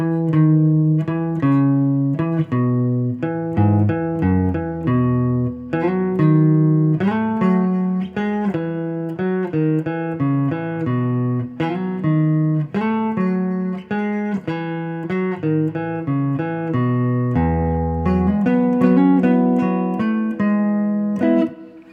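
A plucked guitar plays a steady descending chord riff, notes ringing into one another at a moderate pace, clear and up close with no voices.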